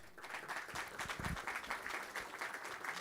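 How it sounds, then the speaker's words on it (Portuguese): A round of applause for honorees at a São Paulo commercial association ceremony celebrating National Choro Day, many hands clapping in a fairly rhythmic, even patter, faint and somewhat distant. "com a salva de palmas"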